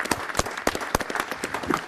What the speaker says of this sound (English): give these wonderful veterans a round of applause and appreciation for their service to their country